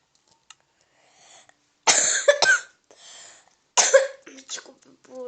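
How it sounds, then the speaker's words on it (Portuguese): A person who is sick coughs in several harsh bursts, two main loud fits with smaller throat-clearing sounds between, close to the microphone in a quiet room. "Desculpa por eu estar tossindo e tal"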